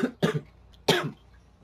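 A man gives two short coughs, the second louder, with a brief pause between.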